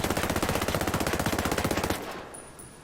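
M4A1 CQC rifle in Ghost Recon Breakpoint firing a rapid full-auto burst of about two seconds, loud and close, then a ringing tail as the shooting stops.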